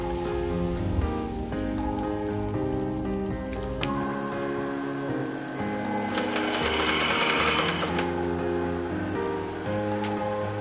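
Sewing machine stitching boat sunshades with stiff, fishing-line-like Tenara thread, a steady close whirring run of rapid stitches that changes pitch partway through.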